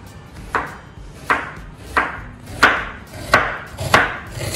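Onions sliced thinly with a knife on a wooden board, a regular series of about seven crisp chops, close and distinct, each with a short scraping tail.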